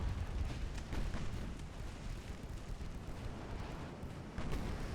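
Naval combat in Ultimate Admiral Dreadnoughts brings a torpedo detonation, a heavy, low, rumbling roar that surges at the start, sustains through the middle and swells again near the end, with no voices.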